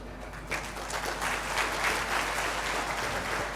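An audience at a chartered accountants' association event gives a soft, steady round of applause that swells after a brief quiet start and holds at moderate level, heard from a distance.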